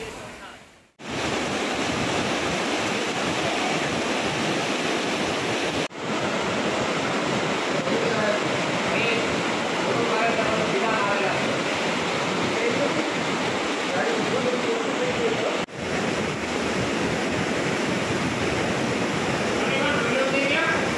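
The Saraswati river at Prachi Tirth near Sutrapada rushing past, a loud, steady roar of flowing water mixed with wind buffeting, broken by a few brief dropouts.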